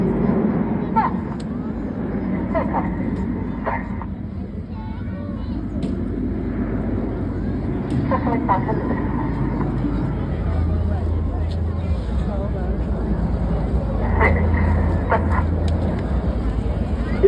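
Red Arrows jets accelerating in formation during a flying display at the 2024 Southport Airshow, a broad, steady engine roar that swells slightly toward the end, with crowd murmur and voices underneath.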